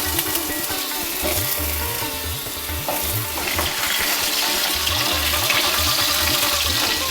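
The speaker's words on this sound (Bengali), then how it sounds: "তেলের মধ্যে এই আলুগুলো ভেজে তুলে নেবেন" Continuous loud sizzle of potatoes frying in hot oil, with bubbling and a low rhythmic rumble underneath throughout.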